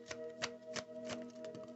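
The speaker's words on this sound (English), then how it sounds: "let's retry that shuffle" Tarot cards being shuffled by hand during a card reading, a run of soft papery riffles and taps recurring about every third of a second, close and fairly quiet, with a faint steady hum beneath.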